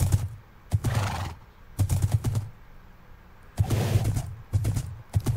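A horse in the video game Minecraft makes several loud, breathy neighing snorts with clopping hoofsteps, coming in repeated bursts separated by short pauses.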